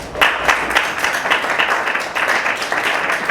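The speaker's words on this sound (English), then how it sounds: "So a round of applause to our young people." An audience at a youth-led policy forum applauds young people, a dense, steady wash of many hands clapping together that holds loud and even throughout.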